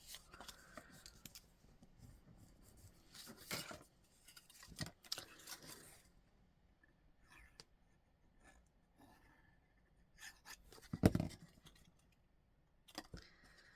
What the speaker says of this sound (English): I have cut some little gold pieces to go on